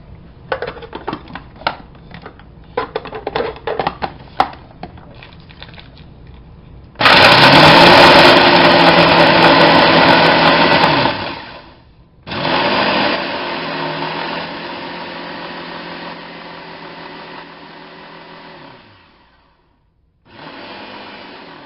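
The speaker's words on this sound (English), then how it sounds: "I'm going to put this in the food processor. I'm going to grind this down." A food processor grinds crust ingredients in loud, steady bursts, two long runs separated by a short pause, following quieter clattering handling sounds.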